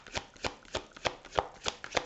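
A deck of cards handled close up, giving a steady series of about seven soft, rhythmic flicking riffles in quick succession, with no talking.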